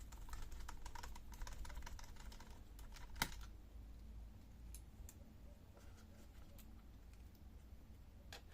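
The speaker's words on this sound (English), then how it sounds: "Now unscrew the screws which hold the battery." Small screws holding the battery of a Dell Latitude E5570 laptop are worked loose with a screwdriver, giving a busy stream of close, dry clicks and ticks with one sharper snap in the middle.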